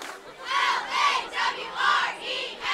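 Spectators in the stands at a high school football game shout and chant in rhythmic bursts, a distant crowd roar that swells and fades several times.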